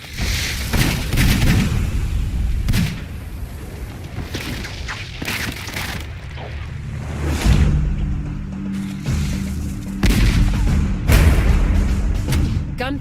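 A multi-barrelled gunpowder gun fires a rapid volley of loud, booming blasts with mechanical clanking between shots, in a Hundred Years' War battle in Age of Empires 4.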